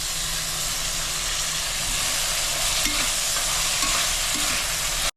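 Chopped medium tomatoes and onions sautéing in a pan, a loud, dense, continuous sizzle and hiss with faint stirring scrapes, cutting off abruptly at the end.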